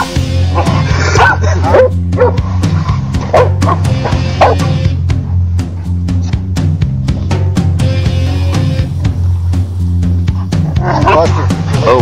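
Several hunting dogs bark and yip excitedly in rapid, overlapping bursts close by at a wild boar hunt, with whimpers and a person talking in between.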